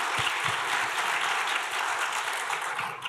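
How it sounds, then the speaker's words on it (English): Audience applause at a Kansas Supreme Court justices forum, a dense steady roar of many hands clapping close by, sustained throughout and tapering slightly at the end. "Another round of applause."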